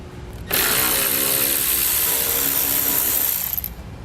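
A power driver whirs steadily for about three seconds, removing a screw from the headlight assembly of a 2017 Ford Focus, close and loud, then winds down with no talk.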